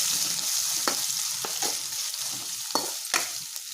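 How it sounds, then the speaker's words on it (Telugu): Onions sizzle steadily with mustard seeds and chana dal in a hot pan while a spoon scrapes and stirs them several times. "పోపులు శనగకాయ అయిన తర్వాత ఆనియన్ కోసం ఫ్రై చేసుకోవాలి"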